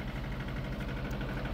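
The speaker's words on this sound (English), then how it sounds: "So it's our little farm tractor." A 1988 small farm tractor engine idles in a steady, low, throbbing rumble, close and even, with no voices.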